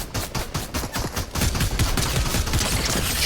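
Gunfire in the Fortnite video game, a dense burst of rapid shots followed by continuous loud overlapping fire and impacts that fill the clip, with no talking.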